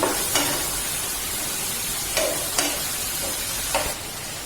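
Carrots cook in milk in a pan, a steady bubbling simmer with a hiss, broken by a few soft scrapes of stirring.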